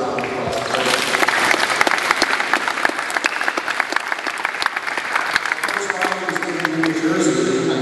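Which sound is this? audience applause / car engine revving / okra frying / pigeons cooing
audience applause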